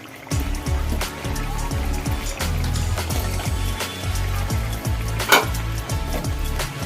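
Fish eggs land in a pan of simmering mango chutney, giving a busy sizzle and bubbling with repeated clinks and scrapes of a utensil against the pan.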